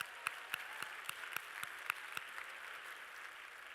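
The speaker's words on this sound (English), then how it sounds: "Clap for that." An audience at an education luncheon gives brief applause, a faint, distant patter of clapping with several distinct sharper claps early on, fading into soft room noise.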